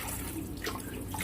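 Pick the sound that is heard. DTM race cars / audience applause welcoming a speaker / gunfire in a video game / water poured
water poured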